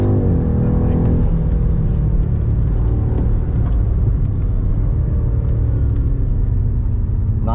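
A 2021 BMW M5 CS accelerating hard on the Nürburgring Nordschleife, a loud continuous engine roar with climbing tone steps heard from the cabin, dense road rumble throughout.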